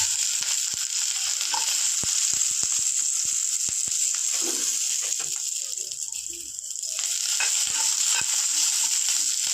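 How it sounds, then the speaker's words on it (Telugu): Green chillies fry in a little oil in a pan, a steady bright sizzle with scattered ticks and clicks from the pan and spoon, close and continuous. "ఫస్ట్ బాండ్లీ పెట్టుకొని కొద్దిగా ఆయిల్ వేసుకొని ఇంతే ఫస్ట్ పచ్చిమిరపకాయలు వేయించుకుంటాను"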